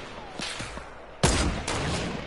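A sniper rifle fires in a video game with a sharp, loud crack about midway, followed by a second sustained burst of game noise, over low background clatter.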